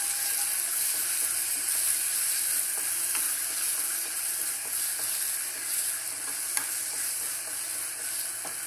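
Egg roast with chopped coriander leaves being stirred and fried in a pan, a steady close sizzle running throughout with faint scraping stirs and an occasional spoon clink.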